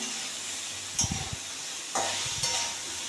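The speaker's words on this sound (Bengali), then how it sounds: "আস্তে আস্তে কষাবো আমি গ্যাসের ফ্লেমটাকে একটু কমিয়ে দিয়েছি" Soybean and potato curry with turmeric sizzles in a pan over a low flame, with a few bursts of stirring scrapes breaking through a steady frying hiss.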